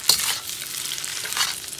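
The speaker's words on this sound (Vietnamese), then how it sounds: "bây giờ mình sẽ chiên một cái chảo cơm thứ hai nha các bạn" Rice and shrimp being stir-fried Hong Kong style in a large pan, a close sizzling hiss with scraping stirring strokes that swell and fade in bursts, with no talking.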